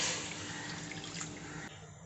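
A short, soft trickle of water being poured into a small bowl, a brief splashing stream that ends abruptly.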